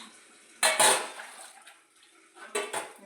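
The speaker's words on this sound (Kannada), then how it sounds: "ಸ್ಟೀಲ್ ಪಾತ್ರೆ ನೋಡಿ." Steel kitchen utensils clatter and clink as they are rinsed and handled in water, a few sharp metallic bursts separated by quieter splashing and dripping, close and clear.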